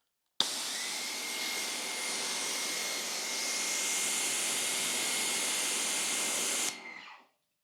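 Electric all-in-one pressure washer with a hose reel spraying water, a steady hissing roar that starts abruptly, holds loud and even for about six seconds, then cuts off and trails away.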